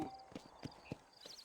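Horse hooves from Red Dead Redemption clop briefly in a few spaced, fairly close steps against a quiet game background.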